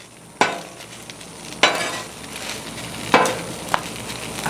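Spatula scraping and stirring barbecue pork on a Blackstone griddle over a steady sizzle, with four sharp metallic scrapes spaced irregularly, close and fairly loud.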